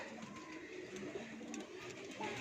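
Pigeons coo softly amid a loft of Kasuri pigeons, with faint, low, throaty calls over a steady background hiss.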